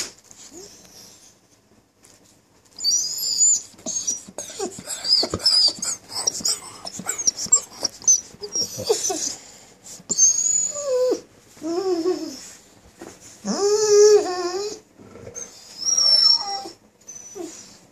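A dog whines for treats in a run of high, nasal whimpers and squeaky rising cries, close by and fairly loud, with short pauses between bursts and no talking.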